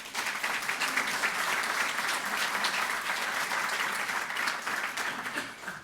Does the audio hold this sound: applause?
yes